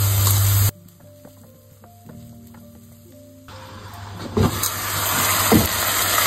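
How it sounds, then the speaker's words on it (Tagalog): Onion and carrots sizzle as they sauté in a pan for shepherd's pie, a loud burst at the start and end with a quieter, steady frying hiss in between and a few clinks of stirring. "saute the onion, one big onion. Then, add the carrots."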